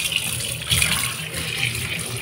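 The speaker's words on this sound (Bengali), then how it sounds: "আগে দুধটা ভালো করে ধুই।" Tap water runs steadily into a kitchen sink while a milk packet is rinsed under it, a close, continuous splashing stream with no talking over it.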